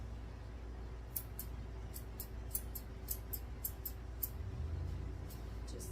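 Crisp, quiet snips of curved scissors trimming a toy poodle's fur repeat irregularly, a couple per second, close by over a low steady background hum.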